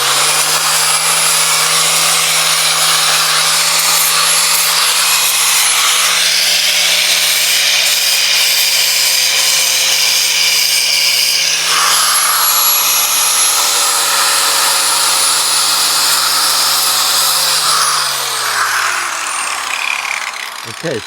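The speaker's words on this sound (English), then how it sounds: "I take my sander. Especially that this is a cedar." An electric sander works a cedar timber frame joint, a steady, loud whine held for about eighteen seconds before winding down and fading at the end.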